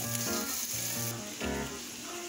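Shrimp dusted with complete seasoning and garlic salt powder fry in a pot, giving a steady, loud, close sizzle with crackling spatter and a soft stir, no voices.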